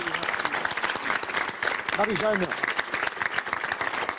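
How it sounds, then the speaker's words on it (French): A studio audience on the French game show Motus applauds the contestants in a continuous wash of clapping, while a host's voice briefly calls out a name over the top partway through. "je voudrais qu'on les applaudisse tous,"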